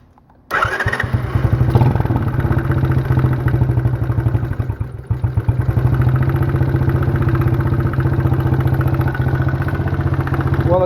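A small gas engine on a battered mini quad catches after a brief crank and settles into a loud, steady, clattering run close by, a rapid even pulse with no voices over it.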